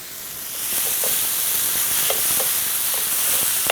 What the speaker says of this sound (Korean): 히카마 넣어서 볶도록 할게요